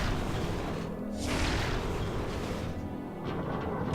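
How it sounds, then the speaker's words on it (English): A missile blast shattering debris in Metroid Prime 3: Corruption, a loud, dense roaring explosion that fills the whole clip, with a swell of rumbling burst near the middle and no voices. "just a simple missile will do it."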